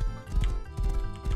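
A horse gallops in the video game Rust, hooves clip-clopping in quick rhythmic bursts over a steady tonal game background, close and moderately loud.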